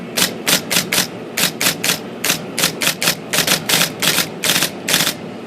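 An IBM Selectric typewriter back in operation after its ball-rotate position was adjusted, clattering out quick bursts of sharp, close keystrikes in uneven clusters with short pauses between runs.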